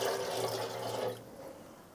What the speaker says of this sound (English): I'm gonna fill this tank with a little bit of water